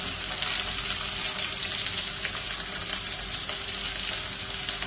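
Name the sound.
onion and curry leaves sautéing in pan for curry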